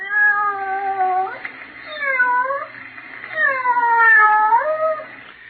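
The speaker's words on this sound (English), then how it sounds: "Just a sound effect. But in your imagination, didn't you picture a cat meowing?" A cat meows as a radio sound effect, several drawn-out wailing meows in sequence, clear and close against a quiet background.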